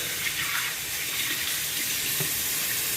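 A kitchen tap runs steadily for hand washing, a continuous bright hiss of water splashing into the sink, close and even throughout with no talk.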